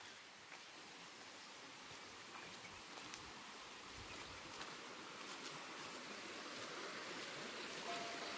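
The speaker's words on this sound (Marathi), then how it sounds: "पाण्याचा आवाज बघा येतो." A river flows nearby on a forest walk toward the Shirgaon dam, a faint, steady broadband rush of water that holds even throughout, with no voices.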